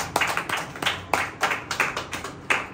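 Rhythmic hand clapping in praise at a church makes a series of about a dozen sharp, evenly spaced claps, close and clear, with no talking.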